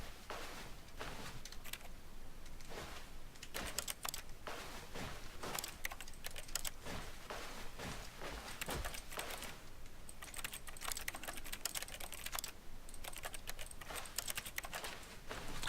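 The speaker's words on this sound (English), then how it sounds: "I like the computer clicking noises." Computer keyboard typing in The Stanley Parable video game: a steady, dense run of clicking keystrokes that continues throughout, close and fairly even in loudness, with no voices.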